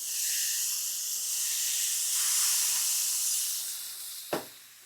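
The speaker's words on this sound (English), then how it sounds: "You're steam cleaning it." Steam hissing off a very hot grill as it is steam cleaned, a sustained broad hiss that swells and fades, ending with a sharp knock.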